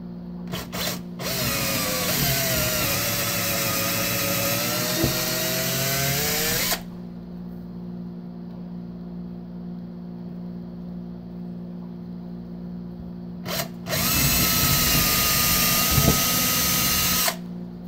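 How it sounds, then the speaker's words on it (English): A power drill bores through a table with a 5/32 bit in two long bursts, a loud high whine running about seven seconds, then a quiet pause, then a second run that is just as loud and close. "I'm just going to drill through my two holes on the table. I'm going to start out with a 5/32 bit"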